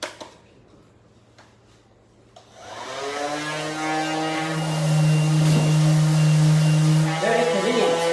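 A cordless power sander works sandpaper against a surface, its steady motor whine starting after a quiet opening and holding loud and continuous to the end, with faint voices in the background early on.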